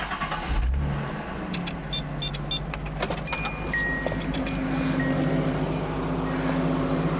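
A Datsun 280ZX engine turns over and catches, then settles into a steady low idle that rumbles on through its muffler, with a faint jingle of keys near the start.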